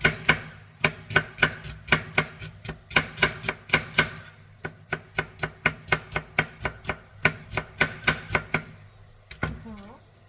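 Steady knife chopping on a board in a home kitchen, sharp close taps in brisk even runs with a brief pause midway, ending in a short clatter.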